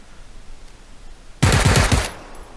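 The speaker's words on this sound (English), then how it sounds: "I'll just take a couple shots just in case that guy was still alive" A burst of rapid automatic gunfire in PUBG on Xbox One: a short, loud, close volley of about half a second of quick successive shots following quiet ambient game sound, with no talking.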